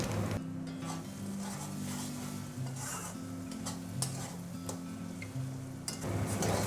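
Spices stir-fry with Kashmiri chilli powder in a pan for Bengali pointed gourd pasinda curry, a low, continuous sizzle under rhythmic scraping of a spatula, with a few light clinks and no voices.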